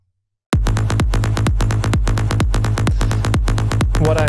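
A Spire synth bass treated with reverb, delay and compression kicks in after a moment of silence and pulses in steady, loud repeated notes with a bright buzzy top, alone.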